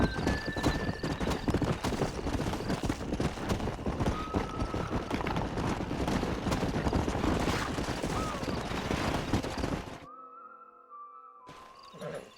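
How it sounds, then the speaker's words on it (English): Horses in Red Dead Redemption clop along in a dense, busy rhythm of hoofbeats with faint whinnies mixed in, then fall quiet. A brief tone and a small sound come near the end. "We got some fine horses."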